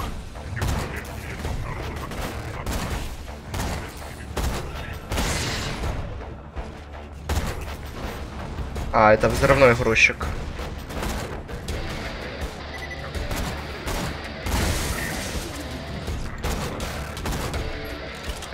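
Enemy loader robot firing its gun during Borderlands 2 gameplay: repeated bursts of gunfire and mechanical clanks amid game noise, loudest around the middle, with someone talking over parts of it.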